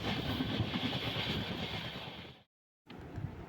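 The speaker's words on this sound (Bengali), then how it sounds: "আমাদের ট্রেন হাওড়া জেলার বিভিন্ন স্টেশন অতিক্রম করে রীতিমতো ছুটে চলেছে তার গন্তব্যস্থলের দিকে" A train runs on the rails through Howrah district stations, a steady close rumble of wheels and carriage noise with a brief gap of silence near the end, no talk.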